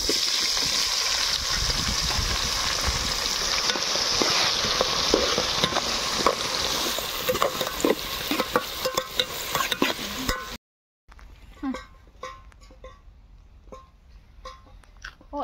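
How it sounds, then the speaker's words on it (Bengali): Onions for an outdoor dhaba-style chicken biryani fry loudly in a pan with a constant sizzle, broken by repeated scraping stirs. The sizzle cuts out near the end, leaving quieter, sparse stirring clatter. "আমি পেঁয়াজের ব্রেস্তা করে নেবো।"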